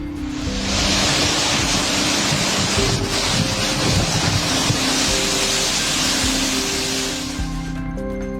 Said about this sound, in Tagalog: rinig na rinig ang lakas ng ulan at hangin na nararanasan sa isla